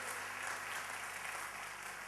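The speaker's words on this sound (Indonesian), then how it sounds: "Tepuk tangan buat Tuhan" A church congregation applauds during a sermon, a soft, distant, continuous wash of clapping hands heard faintly and evenly throughout.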